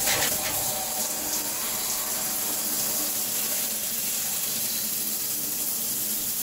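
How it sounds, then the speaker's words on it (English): A shower runs on the hot side in a home, its steady, even hiss of falling water continuing throughout at close range. "Put on the shower."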